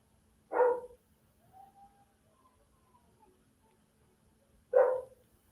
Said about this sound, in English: If you guys can hear that, those are my dogs.